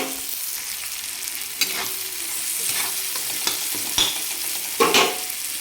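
Coarsely ground peanuts, garlic and chili being stirred in a pan, a soft steady sizzle broken by a few distinct spatula scrapes and clinks, close by with no speech.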